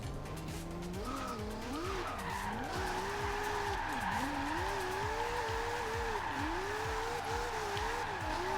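Nissan Skyline drift build in Forza Horizon 2 launching and sliding, its engine revving up and down in repeated surges over sustained loud tire squeal, close and continuous throughout.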